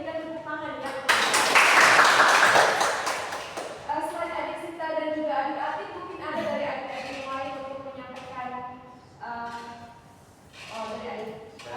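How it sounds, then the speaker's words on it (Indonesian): A class group at a school sociodrama role-play breaks into a loud, dense burst of clapping lasting about two seconds, which then fades as a voice starts talking over it. "Kita berikan tepuk tangan ya."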